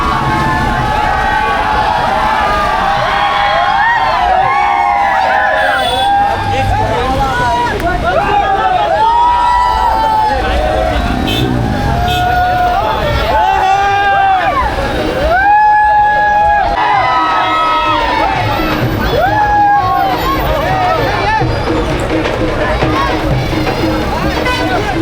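A large crowd gathered at an outdoor event in Chiplun clamours and cheers for a visiting vlogger, with loud overlapping shouts and babble close by, vehicle noise in the background, and people talking throughout.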